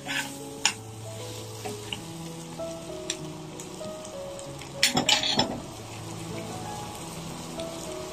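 Spices sautéing with vegetables in a pan for a minced-meat and green bean stew, a steady soft sizzle with a few sharp clinks of a spoon or utensil against the pan partway through.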